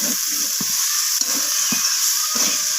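Green peas sautéing with mixed vegetables in a pan crackle under a constant hiss, broken by a slow, regular rhythm of spatula strokes scraping through the mixture.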